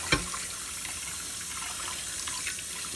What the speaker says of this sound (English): Now rinse the dish off.